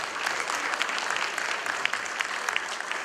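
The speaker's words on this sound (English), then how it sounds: "let's give them a round and yourself a round of applause" Steady applause from a small audience at a community town hall, a dense patter of clapping at an even level throughout.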